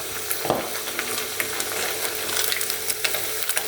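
Catfish pieces deep-frying in hot oil as they turn crisp, a steady dense crackle with scattered sharper pops and a thicker bubbling burst near the start, close and continuous with no voices.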